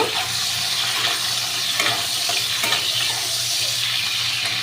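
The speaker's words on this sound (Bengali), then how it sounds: "কড়াইয়ের তেলটা দেখো গরম হয়েও গেছে এবার আমি চিংড়ি মাছগুলোকে দিয়ে দিলাম" Salted prawns hit hot oil in a wok and fry with a loud, continuous sizzle and crackle, steady throughout with occasional sharper pops.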